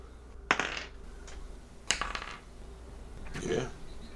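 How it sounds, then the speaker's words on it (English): Small ten-sided dice clatter and tumble across a hard surface in three separate rolls, each a quick rattle that settles, with a voice briefly heard. "Everyone roll one of the 10-sided dice."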